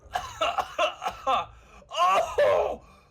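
A voice imitates harsh coughing from smoking a pipe: a series of short, rough coughs, then longer wheezing, laugh-like hacks, close and loud.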